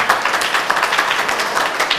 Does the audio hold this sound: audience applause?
yes